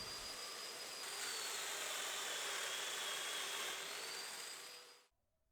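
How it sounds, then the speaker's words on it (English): A domino joiner with a 10mm cutter whines loudly and steadily for about five seconds, its high-pitched motor cutting grooves into wood, then stops abruptly into silence. "I'm using the 10mm cutter in the domino and it's on the widest setting."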